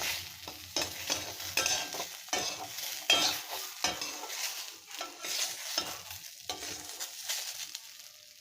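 Potatoes fry in a pan as a side for an okra-and-potato chorchori, with an uneven crackling sizzle broken by repeated scraping stirs of a utensil.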